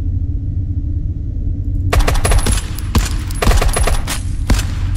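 Rapid gunshots in the sci-fi video game Marauder burst out after a quiet, humming start, loud bursts of automatic fire crackling in quick clusters over a low rumbling drone.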